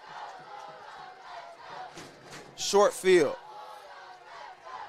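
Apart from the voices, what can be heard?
crowd screaming and chanting at a football game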